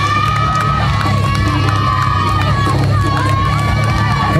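Crowd cheering and shouting at a firefighting competition, a steady loud roar of spectators with excited calls and whistles running throughout, mixed with outdoor event noise.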